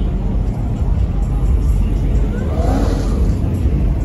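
A Dodge Hellcat revving in a small parking lot, a steady loud engine roar with low rumble throughout, swelling slightly near the end.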